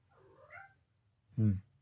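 A single cat meow, close and fairly loud, preceded by a softer, higher vocal sound; quiet low hum in the background.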